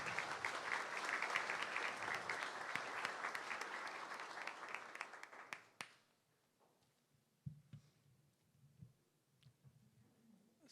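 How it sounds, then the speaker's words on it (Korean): Audience applause at a university honorary doctorate ceremony, a dense crowd clapping for several seconds before thinning out into scattered claps and quiet room sounds. "여러분 힘찬 박수로 환영해 주십시오"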